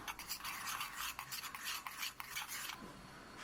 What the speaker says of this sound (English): Now mix all the ingredients together.